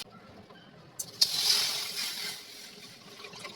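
Water poured into a heated frying pan on a home stove, a sudden hiss and sizzle that swells briefly and then fades to a soft simmer, with no talk.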